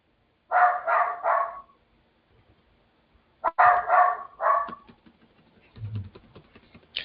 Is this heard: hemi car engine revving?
no